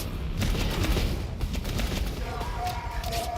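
Rapid automatic turret fire in the sci-fi shooter Warframe, a dense rattling burst of shots running steadily throughout, loud and close, with game effects layered over it.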